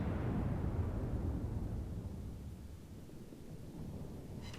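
Battlecruiser Izmail, a Russian battleship in World of Warships, fires a salvo of armor-piercing shells. A dense, heavy rumble like thunder starts at full strength and slowly fades into a long, steady roar.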